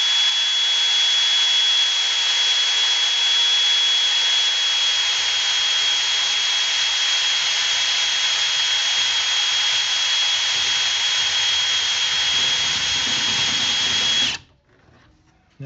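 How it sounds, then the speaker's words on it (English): A blade drill bit boring steadily through plastic to make a hole for a switch or LED light, a continuous, even whirring grind lasting about fourteen seconds before stopping abruptly, close and loud. "I'm just going and letting the drill do its thing, and kind of working its way through there"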